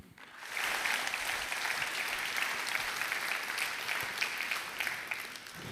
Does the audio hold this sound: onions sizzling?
no